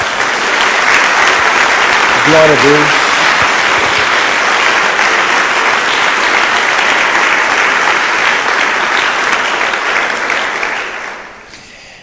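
A church congregation claps loudly and steadily for about ten seconds, and one voice calls out briefly near the start. The applause then fades away at the end.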